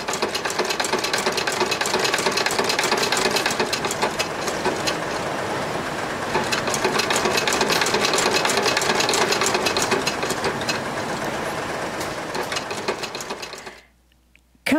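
Shoe-stitching sewing machine played from a recording, a loud rapid mechanical clatter running continuously for most of the span before cutting off abruptly near the end.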